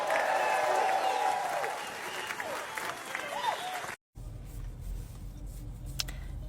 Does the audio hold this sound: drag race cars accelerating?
no